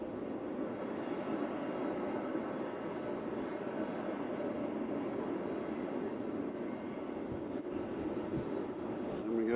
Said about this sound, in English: at 4:24, we're supposed to have 747 takeoff going to Orlando